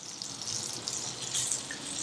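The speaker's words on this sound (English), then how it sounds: "So all that's left to do is just add some water" Water runs from a tap or is poured steadily into a pan for Mexican rice, a continuous close splashing hiss with no talk.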